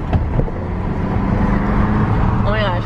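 A small car, not a family car, drives along with a steady, fairly loud engine and road rumble filling the interior, while a person speaks over it.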